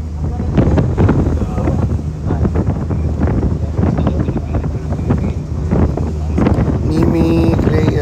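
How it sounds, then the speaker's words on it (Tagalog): Strong, cold wind buffets the microphone outdoors in a loud, continuous roar and rumble, with faint voices underneath. "Grabe naman ang hangin dito."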